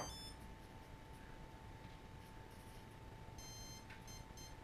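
Align T-Rex 150 DFC RC helicopter sounding its battery protection beep during setup mode programming, a steady high-pitched electronic tone held throughout, with a faint burst of short chirps near the end.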